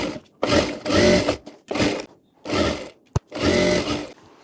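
A sewing machine stitches a lined blouse collar in four long bursts of whirring separated by short pauses, with a single sharp click near the end, close and loud.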